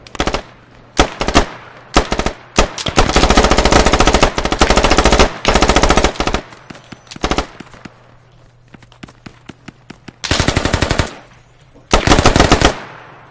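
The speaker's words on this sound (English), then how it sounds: "I just fucking shot through Roscoe" Automatic and single-shot gunfire from the video game Squad, in a full match with mortars, rings out in loud, dense bursts, some sustained for over a second, separated by short gaps and ending with two heavy bursts near the end.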